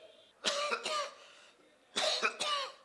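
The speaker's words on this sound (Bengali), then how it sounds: "কাশতেছো কেন তুমি?" Two quick pairs of dry coughs, close and clear, with a short pause between them against quiet background hiss.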